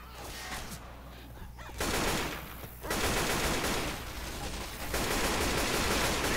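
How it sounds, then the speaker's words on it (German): AK rifle fire in the video game Left 4 Dead 2: loud, dense automatic bursts that run almost without pause, with brief shifts in intensity. "Ich nehme die AK. Geil, man kann auch durch das Holz schießen."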